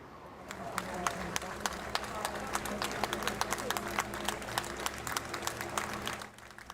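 Crowds lining the streets of Liverpool applaud Cilla Black's funeral cortege, a continuous spread of many hands clapping from near and far, with scattered sharper claps standing out, before the applause fades toward the end.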